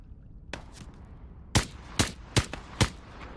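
Gunfire in Into the Radius 2: a couple of softer shots, then four loud, sharp reports about half a second apart, close and punchy over a low background rumble.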